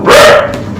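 A single sharp, close bark from a dog, loud and short with a brief tonal whine trailing after it.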